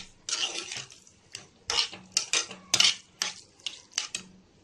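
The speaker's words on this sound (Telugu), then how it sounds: "బాగా కలుపుకొని ఒక 2 నిమిషాలు ఆయిల్లో ఇలా ఫ్రై చేసుకోవాలి" White pumpkin pieces stir-fried in oil in a pan, a metal spoon scraping and clattering against the pan in a quick, irregular series of strikes with a faint sizzle underneath.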